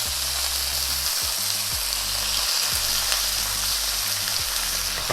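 A pork chop frying in a hot pan, a loud, dense, continuous sizzle and crackle of spitting fat, close up, with a low hum running beneath and no talking.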